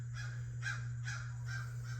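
A crow caws four times in a steady rhythm, moderately distant, over a constant low hum in an outdoor garage setting beside a Fox Body Mustang suspension job; no one speaks.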